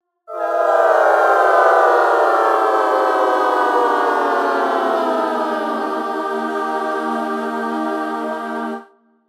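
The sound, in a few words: LABS Gaelic Voices free choir VST, Slow Descent preset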